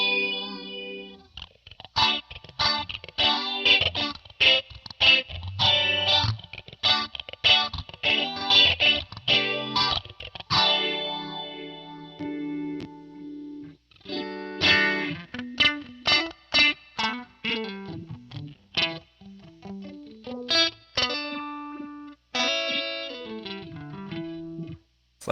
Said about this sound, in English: Got a phaser.